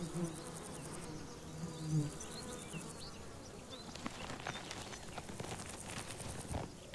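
A spiny mason wasp buzzes close by as it works on its mud tunnel at a wall nest, a continuous insect drone over faint outdoor background.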